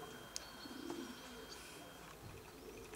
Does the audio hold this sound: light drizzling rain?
no